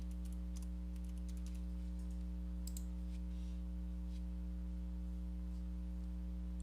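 Typing on a computer keyboard while searching in Windows: scattered soft key clicks in short bursts, faint and close, over a loud steady mains hum.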